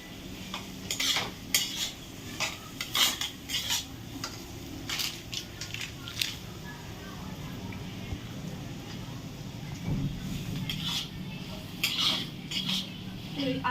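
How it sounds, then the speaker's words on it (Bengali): Semolina with vegetables stirred gently in a pan, giving intermittent clinks and scrapes of a utensil against the pan over a low background hum. "সুজিটা দিয়ে হালকা হাতে নাড়তে থাকবো।"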